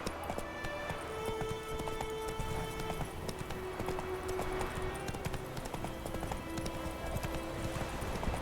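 Horse hooves gallop in The Witcher 3, a steady rapid clip-clop running continuously and fairly loud, with no talk over it.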